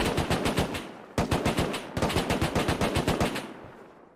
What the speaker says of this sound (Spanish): ¿Y esos disparos, bro?